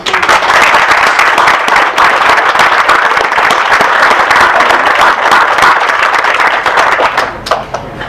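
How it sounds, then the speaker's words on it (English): Loud, dense applause from a large audience carries on steadily, then thins out and fades toward the end. "would everyone please join me in a round of applause for our veterans"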